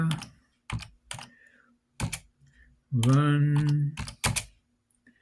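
A computer keyboard on an old Dell PC clatters in several short bursts of keystrokes, close and fairly loud, with someone talking briefly between them.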